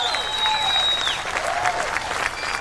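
A Republican National Convention crowd applauds during a 2020 acceptance speech, a sustained roar of clapping with whistles and cheering voices ringing above it.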